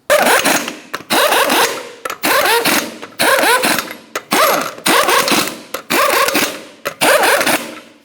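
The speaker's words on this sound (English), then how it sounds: "We'll start on all the lug nuts, bottom them out" Lug nuts being run down on a rear wheel of a 1994-2002 Ram 2500 truck: loud repeated bursts of a ratcheting, whirring wrench, about eight runs each lasting under a second, separated by short pauses, close up and with no talk.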